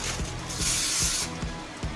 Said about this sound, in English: So I'll just do some little non-stick,